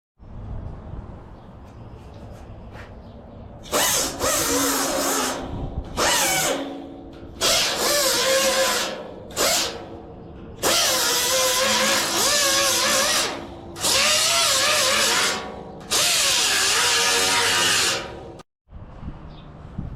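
A power grinder works the metal of a 1955 Chevy's right front fender in repeated loud bursts of shrill grinding, each lasting a second or two, with short pauses between them.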